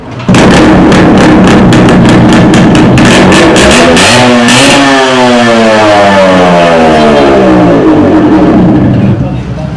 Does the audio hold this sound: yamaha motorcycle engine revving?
yes